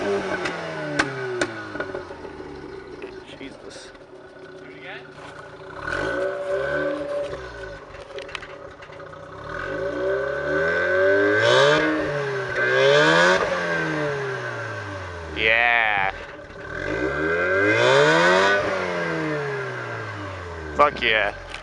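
A rotary engine with a stock exhaust revs repeatedly in a car, rising and falling in several sweeping pulls with a buzzy, high-pitched tone, loud and close, with brief gaps between revs.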